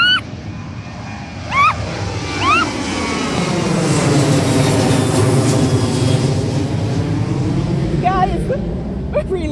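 A loud, steady jet engine roar from an airplane on the runway at Sangster International Airport, Jamaica, builds and holds, with excited voices and shrieks breaking through over the rumble.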